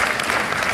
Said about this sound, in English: a big round of applause for Larry Fink and Mukesh Ambani